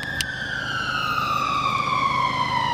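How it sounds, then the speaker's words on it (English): An ambulance siren sounds close by outside a car dealership, a steady loud wail that slowly glides down in pitch as the vehicle passes, with no talk over it. "My apologies for the ambulance."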